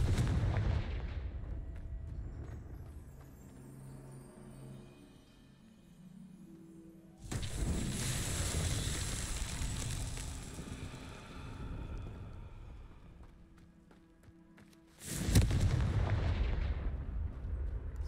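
Confringo fire spells explode in the video game Hogwarts Legacy, three booming blasts several seconds apart, each a sudden loud burst with a rumbling tail that fades into ambient game sound.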